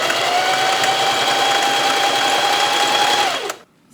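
Sewing machine stitching elastic onto fabric, a loud steady whirring motor hum running continuously for several seconds before stopping abruptly.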